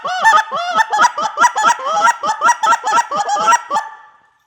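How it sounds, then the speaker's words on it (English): A hand-blown goose call runs through a rapid string of honking licks, about a dozen loud, close clucks and honks in a quickening, natural cadence before trailing off. "you can start putting these licks back to back and sound like more and more geese with a more natural cadence"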